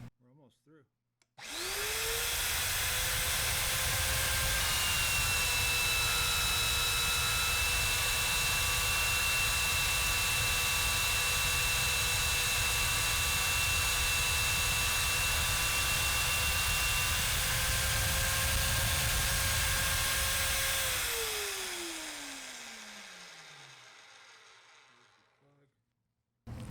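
Evolution S28 magnetic drill cutting through metal runs as a loud, steady whine that spins up abruptly, holds for about twenty seconds, then winds down in a falling pitch as the motor coasts to a stop.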